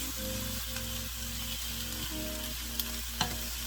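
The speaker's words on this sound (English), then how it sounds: "We're going to fry this up for a few more minutes" Tomatoes frying in a pan for a Mexican devil shrimp (camarones a la diabla) sauce: a steady close sizzle with rhythmic scrapes of stirring about every half second and a couple of sharp clinks, no talking.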